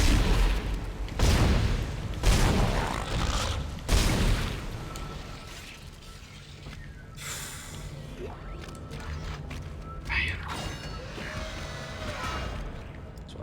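Rapid bursts of weapon fire and heavy booms from the Dead Space video game, loud and clustered in the first few seconds, then trailing into mechanical clanks and scattered impacts.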